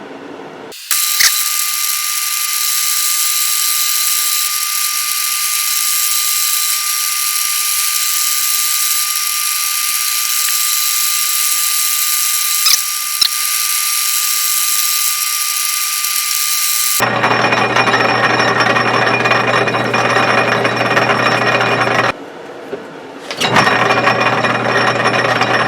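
A metal lathe cuts a thread in steel with a loud, steady high-pitched mechanical whine close by. The tone shifts partway through and continues in a different running note, with a brief stop near the end.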